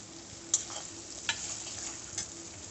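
Tomato sizzles and fries in a hot pan during Bengali cooking with ginger, a steady close hiss broken by a few sharp stirring clicks.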